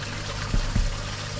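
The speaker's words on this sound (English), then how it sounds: "So the water basically falls through the middle" Water falls through the 250 micron mesh of a DIY pond sieve filter, a steady close splashing trickle with two slightly louder surges partway through.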